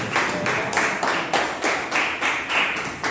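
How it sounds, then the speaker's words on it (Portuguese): Congregation in a church service claps together for the holy book, a steady rhythmic unison clapping that pulses roughly three times a second, moderately loud and close, with no talking over it. "Podeis assentar-se, aplaudindo o livro santo"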